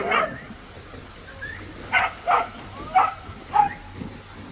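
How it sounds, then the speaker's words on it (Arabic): Dogs playing in water at Córdoba, Spain, give a series of short yips and whimpering barks, about five spaced bursts, over steady outdoor background noise. "شوف الكلاب كيلعبوا في الماء بالصاد"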